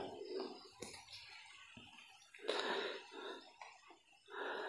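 A few harsh coughing bursts break out, separated by short pauses, close by and moderately loud over a faint background.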